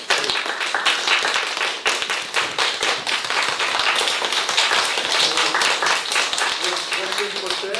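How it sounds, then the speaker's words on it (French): A school audience claps together at a Sainte Anne Ploufragan Téléthon gathering, many hands slapping in a dense, lively patter that stays strong throughout, with sharp individual claps standing out near the start. "C'est qu'on s'applaudisse tous, puisqu'on participe tous au téléphone."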